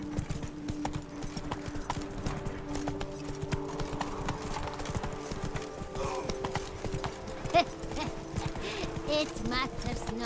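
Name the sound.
horse hooves clip-clopping, from The Witcher 3 video game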